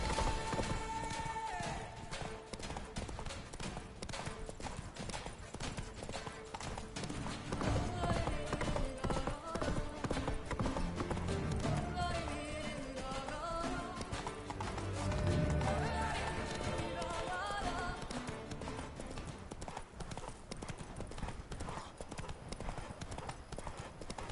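Roach, Geralt's horse in The Witcher 3: Blood and Wine, gallops with steady, rapid hoofbeats that run through the whole stretch, close and prominent beneath music and voices.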